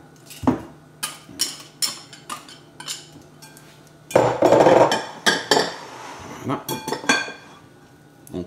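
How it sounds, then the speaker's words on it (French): Butter and icing sugar being worked together in a bowl, heard as repeated clinks and scrapes of utensil against the bowl in bursts, loudest midway, with a brief spoken word. "on met le sucre glace et le beurre et on mélange tout ça"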